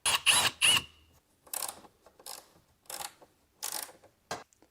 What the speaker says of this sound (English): I want to firm them up with the ratchet so I don't over tighten anything